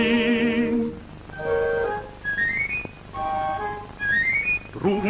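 Papageno's panpipes from The Magic Flute play short, bright whistling phrases, some held and some sliding upward, repeated several times with brief pauses between.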